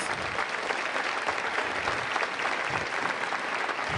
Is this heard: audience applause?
yes